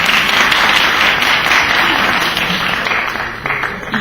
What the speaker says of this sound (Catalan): Poden aplaudir, els de l'Escola d'Hostaleria,